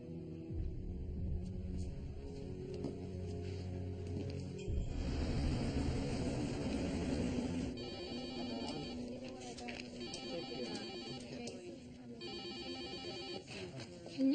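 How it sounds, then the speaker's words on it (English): A telephone rings repeatedly in bursts over a low background rumble and room noise, moderately loud and fairly close. "Can you get that? The phone?"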